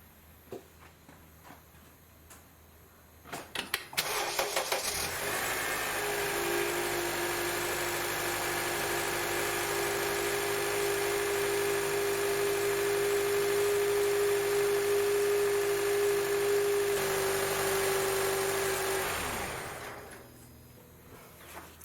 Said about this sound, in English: so the engine is running nice and sweet